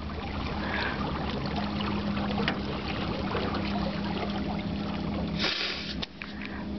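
A slow-moving motor boat drones steadily on the water, a continuous low hum with faint water trickle and splash, then a brief burst of spray near the end before the engine note drops.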